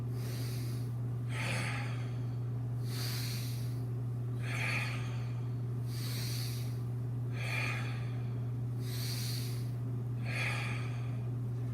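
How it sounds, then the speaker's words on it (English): Slow, steady reverse breathing during a silk reeling exercise with a Cando bar: about seven soft, airy inhales and exhales in an even rhythm, close and quiet over a constant low hum, with no talking. "Now I'm going to pull in with my reverse breath, exhale, pull in,"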